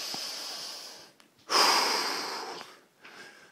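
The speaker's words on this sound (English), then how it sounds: "I'm still puffing and panting." Heavy breathing of someone puffing and panting while walking after exercise, with loud, close, ragged breaths rising and falling over a few seconds.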